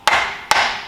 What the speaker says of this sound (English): Now just to help the CV out of the hub, what I like to do is get a bit of wood and a hammer.